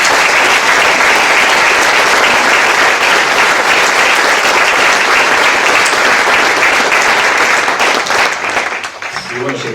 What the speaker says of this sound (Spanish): Me gustaría dar un aplauso a todos ellos.